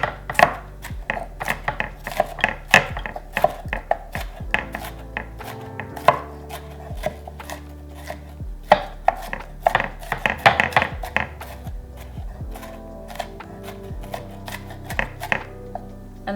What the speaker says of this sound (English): So I'm just going to cut it up a little bit more